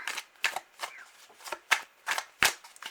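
Tarot cards shuffled by hand during a reading, a quick series of crisp riffling bursts in uneven rhythm, close and clear with no talking over them.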